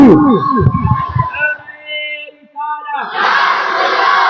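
At a religious gathering, a single voice cries out loudly, followed by a pause, and then a crowd roars back the takbir slogan in a broad, swelling shout.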